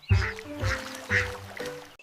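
A few nasal duck quacks in quick succession, fairly close and clear, with short pauses between them and no talking.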